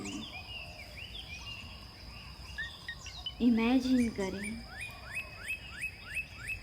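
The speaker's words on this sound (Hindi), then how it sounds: "प्यारी प्यारी चिड़ियाओं की आवाज़ें भी आ रही हैं" Birds chirping in a dense forest, with repeated high chirps and trills along with insect-like buzzing, moderately near, under a calm spoken voice.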